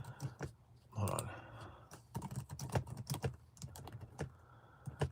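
Quiet typing on a computer keyboard indoors, irregular bursts of sharp key clicks with short pauses, close to the microphone.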